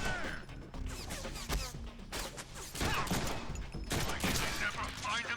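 Gunfire from the player's guns in the video game Deadpool, rapid bursts of shots and crashing impacts in quick succession, mixed with game effects and loud throughout.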